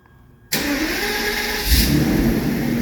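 A 1993 Mercedes 600SEL cranks and fires after half a second of near silence, its engine catching abruptly and settling into a loud, steady idle with a slight rise in revs near the end.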